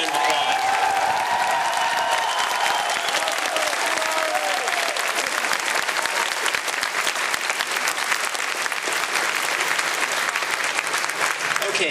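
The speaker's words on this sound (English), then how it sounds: "Give him a big round of applause." A large crowd at the QuakeCon 2007 gaming convention applauds John Carmack at his keynote, dense and sustained clapping with a few cheers at the start.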